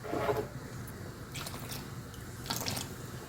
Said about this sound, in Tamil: கட்டி பெருங்காயம் ஊற்றிக்கிடுவோம்